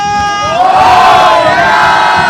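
A dense crowd of Ganesh devotees in Mumbai shouts a loud, sustained chant in unison, voices swelling together in a continuous roar of call-and-response devotion.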